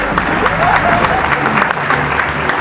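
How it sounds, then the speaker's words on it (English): Audience applause at a live crocodile show, steady dense clapping from a crowd filling the moment, moderately loud with faint murmuring underneath. "give him a round of applause, isn't he awesome?"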